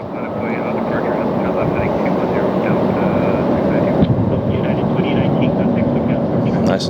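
An airplane lands at LAX with a steady, loud engine roar and rumble throughout, a brief thump midway, and a voice talking over it.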